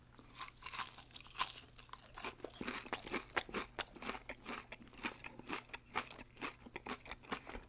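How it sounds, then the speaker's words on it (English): Crunchy fried chicken is chewed close to the mic in repeated crisp, crackling bites, quiet and steady with no talking. "That's some crunchy chicken."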